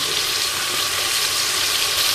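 Onions sizzle and fry in a hot pan for fish biryani, giving a dense, steady hiss close by with no talking.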